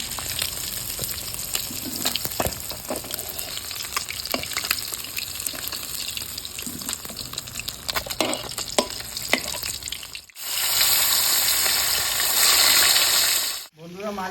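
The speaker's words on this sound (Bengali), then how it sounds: "মাছ ভাজা হয়ে গেছে নামিয়ে দিচ্ছি" Fish frying in oil in a village kitchen for a taro-stolon fish curry, a steady crackling sizzle with clinks of stirring through the first ten seconds, then a louder, denser hiss after a brief pause.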